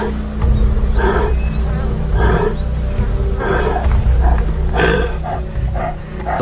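Lioness roaring over a freshly killed buffalo in the wild, delivering several loud, throaty bursts in a steady rhythm, close and dominant over a low background rumble.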